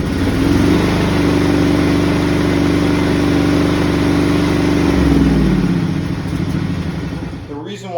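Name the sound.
John Deere V-twin lawn tractor engine running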